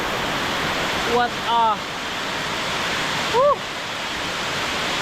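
Banti Falls in Nueva Vizcaya roars as a steady broadband rush of falling water, loud and constant, with brief excited voices exclaiming over it.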